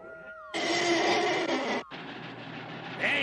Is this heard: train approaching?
yes